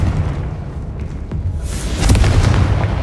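A Confringo blast from Hogwarts Legacy lands as a deep, booming explosion, a broad rumbling burst that swells partway through and lingers as heavy low roar amid battle noise.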